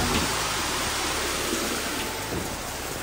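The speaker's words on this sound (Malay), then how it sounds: "Dah hujan lah guys." Rain pours steadily outdoors, a dense even hiss of drops on surfaces that fills the whole stretch without a break, fairly loud and close.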